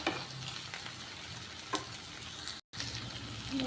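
Taro roots fry in oil in a pan for chemagadda pulusu, a faint, steady sizzle broken by stirring scrapes and one very short silent gap near the end.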